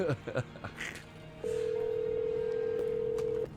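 A telephone rings with one steady electronic tone lasting about two seconds, following brief talk.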